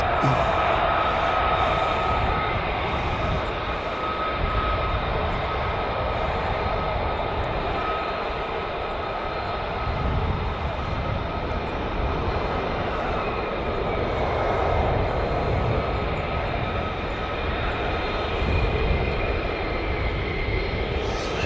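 A military jet descends toward landing at RAF Lakenheath, its engine roar loud and sustained throughout with a steady high whine on top, while people talk faintly underneath.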